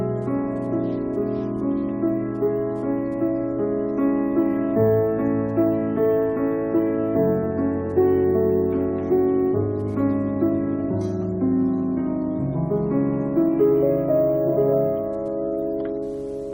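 A piano played gently with the soft pedal held down gives a rich, muted tone. Sustained chords and melodic notes flow at an even, moderate level with nothing else heard.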